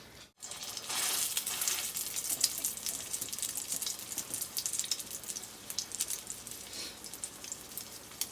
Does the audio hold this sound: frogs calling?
no